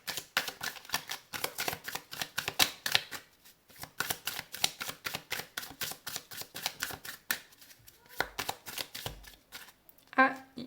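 Tarot cards riffled and shuffled close by, rapid crisp flicking bursts in quick rhythmic runs with brief pauses, a short knock near the end.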